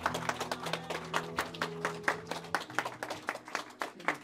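A church congregation claps in steady, rhythmic time, with sustained instrumental tones carrying through the clapping for a few seconds.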